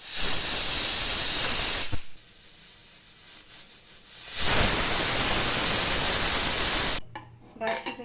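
A pressure cooker whistles while cooking rice, a loud, sharp, high steam hiss that blasts for about two seconds, drops to a low simmer, then screams again for several seconds before cutting off into quieter kitchen clatter.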